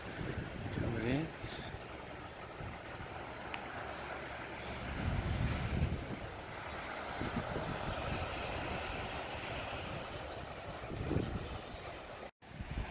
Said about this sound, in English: So many places here to sit and just watch the ocean peacefully.